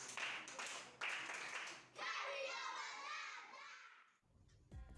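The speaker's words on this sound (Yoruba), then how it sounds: "ẹ pàtẹ́wọ́ fúnra yín" Audience applause after a Yoruba song, with hand clapping and children's voices mixed in for a few seconds before the sound fades out.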